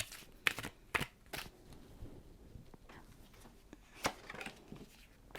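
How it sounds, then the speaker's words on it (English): Tarot cards shuffled by hand, giving a few brisk, quiet riffling bursts separated by pauses, with no talking. "Okay, shuffle."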